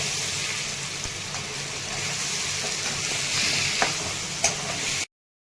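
Ridge gourd pieces fry in a pan with curry leaves, turmeric and masala for stuffed ridge gourd, giving a steady, close, hissing sizzle throughout with no one talking.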